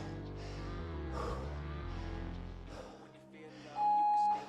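A workout timer gives a single steady electronic beep near the end, loud and sustained for about half a second, following a stretch of music with a bassy backing.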